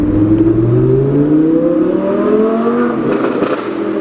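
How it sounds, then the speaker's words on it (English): V10 car engine revving and accelerating, a loud close roar climbing steadily in pitch before easing off near the end, with no voices over it. "That V10 sound ain't going nowhere though."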